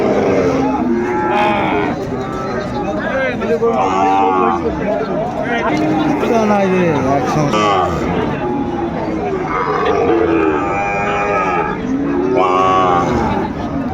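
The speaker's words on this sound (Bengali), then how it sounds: "শাহিওয়ালের ষাঁড় বাচ্চা আমরা দেখছিলাম এখানে বেশ সুন্দর বাচ্চাটি সেরা কোয়ালিটির" Sahiwal bull calves and other cattle low and moo repeatedly at a busy livestock market in Dinajpur, loud and close, over a steady hubbub of crowd chatter and nearby talk.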